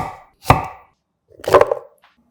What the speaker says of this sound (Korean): 통마늘 5개도 반씩 잘라서 담고